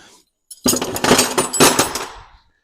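A set of standard wrenches clatters and clinks loudly as it is handled, a brief dense burst of metallic jangling lasting about two seconds before settling.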